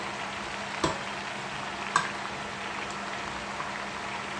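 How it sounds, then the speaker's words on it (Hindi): Steady, even sizzle of masala frying for aloo gobi, a continuous bubbling hiss with two brief knocks of a spoon against the pan, close by and alone without speech. "आप इस मसाले को अच्छी तरह से भून लेंगे।"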